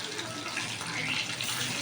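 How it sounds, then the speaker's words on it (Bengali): Paneer pieces dropped into hot oil in a home kitchen, giving a steady, close, broadband sizzle that stays even throughout the short moment. "তেলটা গরম হয়ে এসছে, এবার আমি পনিরগুলোকে ছেড়ে দিলাম।"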